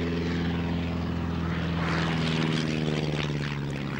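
Miles Messenger propeller aircraft flying at an air show, a steady droning engine and propeller hum that swells slightly midway, continuous and moderately distant with no talking.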